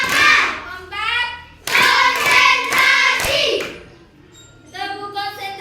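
A class of children at school clapping along in a counting clap game, with loud, sharp bursts of group claps between a teacher's spoken prompts and the children's chanted replies.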